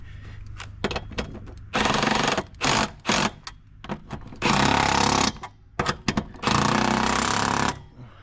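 A power tool drives and tightens bolts on a Munters 36-inch exhaust fan, loud buzzing bursts of one to two seconds separated by short pauses and clunks, close by with no talking.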